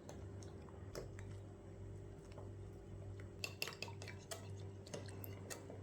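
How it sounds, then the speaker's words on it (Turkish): A spoon clinks and scrapes in a bowl while starch, vanilla, egg yolk and water are stirred together for Hamsiköy rice pudding, quiet, uneven taps and soft sloshing with a few sharper knocks. "3 yemek kaşığı nişastanın üzerine 2 paket vanilya, 2 yumurta sarısı, yarım kahve fincanı su ilave edip karıştırıyoruz"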